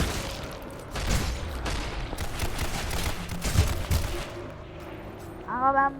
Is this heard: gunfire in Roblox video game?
yes